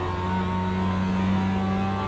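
A race car engine in a racing video game holds a steady mid-pitched drone with sustained harmonic tones, revving continuously and loud for a couple of seconds as the car is steered into a corner.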